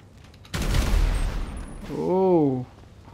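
A loud burst of rapid gunfire from a cheat-powered super gun strikes a vehicle in GTA 5, a dense crackling volley lasting about a second, followed by a brief voice.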